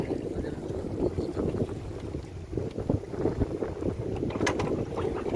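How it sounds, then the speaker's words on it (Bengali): Strong wind buffets the microphone on a boat on a Sundarbans river with big waves, a steady rough roar of gusts and water noise throughout, fairly loud with no talking. "হাওয়া হচ্ছে প্রচুর।"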